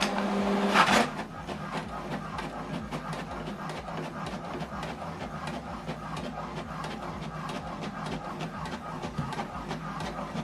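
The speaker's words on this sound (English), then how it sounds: "So this document now is printing." An HP Deskjet 2721 inkjet printer printing a document: a rapid series of regular mechanical clicks and whirring carriage passes after a brief louder burst at the start, fairly quiet and close.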